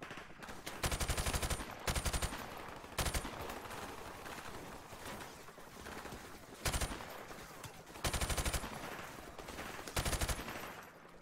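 Gunfire in the video game Call of Duty 4 Modern Warfare Remastered, repeated bursts of rapid automatic fire and single shots at irregular intervals, loud against background game noise.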